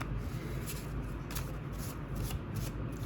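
Tarot cards being shuffled by hand, a steady papery riffling and rubbing that runs continuously and fairly close for about three seconds with no talking.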